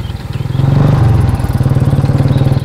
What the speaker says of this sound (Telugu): నాది కిరసనాల బండి అండి